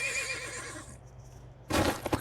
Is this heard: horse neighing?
yes